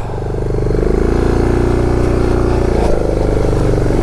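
A KTM 390 Adventure lightweight adventure motorcycle powers through deep lake water, its engine droning loud and steady at close range with a constant churning rumble.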